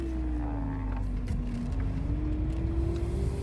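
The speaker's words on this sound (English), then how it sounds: "The idle's a little bit high" A 1990 Acura Integra LS idles high because of a faulty idle control valve, giving a steady, even engine drone heard close up and uninterrupted, without voices.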